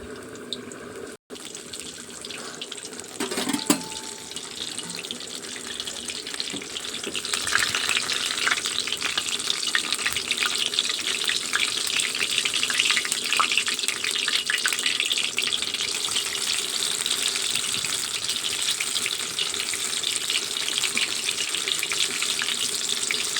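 Food frying in oil while preparing iftar, a steady dense sizzle that grows louder after a few seconds, with a brief clink and some stirring beneath the continuous hiss.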